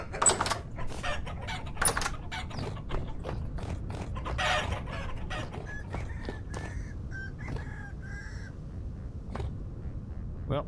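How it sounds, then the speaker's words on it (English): A baby chicken clucks and chirps in short, high calls amid scattered clicks and clatter, with a run of small peeps clustered near the end, all fairly close and moderately loud. "Little baby chicken."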